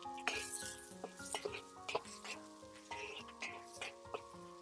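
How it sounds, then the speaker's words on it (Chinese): Minced garlic and small chili peppers stir-fried in hot oil in a wok, with a steady sizzle broken by repeated close scrapes and clinks of a spatula against the pan. "先把蒜末、小米椒炒香"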